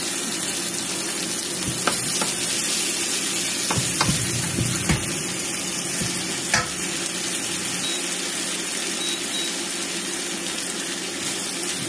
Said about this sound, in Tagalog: Hintayin po lang po natin siya maluto hanggang mag-brown na yung giniling.